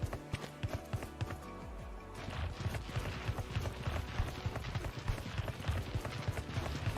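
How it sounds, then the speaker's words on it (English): Decoy footsteps from Yoru's ability in the video game Valorant make a steady run of quick, close tapping steps, moderately loud against a busy game backdrop with no talking. "this is gonna make walking noises so that enemies just think that someone is there"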